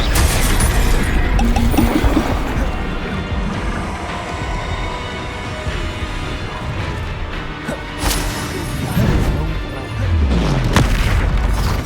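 Spell blasts from the video game Hogwarts Legacy go off as a dense run of booming explosions and crashes during a battle, loud and continuous with repeated heavy impacts.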